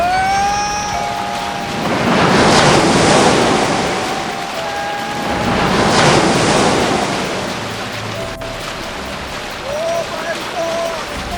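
Floodwater surging during a flash flood in India, a loud rushing wash that swells in two big surges and eases between them, with faint voices and other sounds above it.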